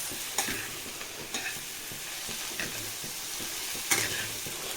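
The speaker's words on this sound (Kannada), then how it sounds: "ಮಶ್ರೂಮ್ ಹಾಕ್ಕೊಂಡು ಒಂದು ಕ್ವಿಕ್ ಮಿಕ್ಸ್." Mushrooms frying in a pan give a soft, steady sizzle, with a few sharp scrapes and clicks from stirring scattered through it, quiet and close, with no voices.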